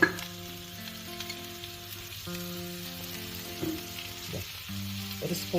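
Onions sauté in a pan with a soft, even sizzle and bubbling, broken by a few light stirring sounds, close up with no voices.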